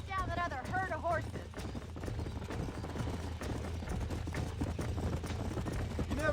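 Horses galloping in Red Dead Redemption, a steady rapid clip-clop of hooves running throughout, with a voice talking briefly at the start.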